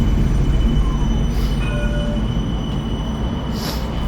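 An Alstom tram rolls along its rails at a busy stop, a loud steady rumble with thin squealing tones from the wheels and a couple of brief high hisses, close by and continuous, with no talking.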